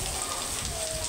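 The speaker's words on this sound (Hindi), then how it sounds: "इधर बारिश को भी देख रहे हैं" Heavy rain falls in a continuous, close, even wash of hiss with no pauses and no voices.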